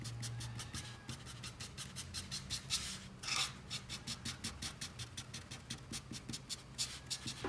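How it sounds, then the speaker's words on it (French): Copic marker stroking across paper while shading a drawing, soft and close, in quick repeated scratchy strokes that run steadily throughout, with no talking. "Pour l'ombre, j'utilise une couleur Copic un peu plus foncée"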